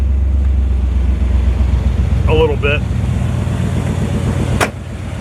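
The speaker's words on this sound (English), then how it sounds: "The engine kind of sort of does care when I turn it on." A roughly 20-year-old Ford Bronco engine runs steadily throughout, a continuous low rumble close to the microphone, with someone briefly speaking over it.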